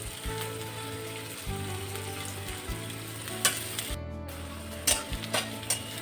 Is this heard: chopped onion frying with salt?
yes